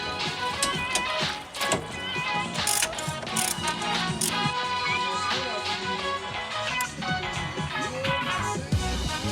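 Quick repeated ratcheting clicks from a wrench tightening front suspension bolts on a Peugeot 205 during a shock absorber change, steady metallic rhythm up close with some clanks mixed in.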